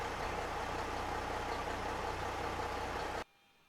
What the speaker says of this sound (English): that engine noise was driving me nuts in there